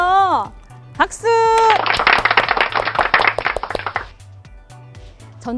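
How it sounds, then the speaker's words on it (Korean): Young children clap together during a children's church Sunday service; a quick burst of dense, lively clapping follows a short spoken cue, with background music and a voice before and after. "박수!"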